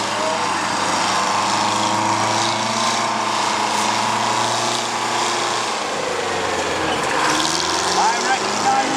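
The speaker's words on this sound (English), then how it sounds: "I got a big old Detroit diesel in it" A 1963 Euclid Terex truck with a big Detroit diesel engine rolls past in a parade, a loud, steady mechanical drone with a shifting tone as it moves by, mixed with crowd noise.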